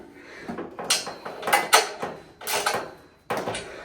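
A hand ratchet works on header bolts of a 1961 Mercury Comet, a series of short metallic clicking bursts in uneven strokes, close by.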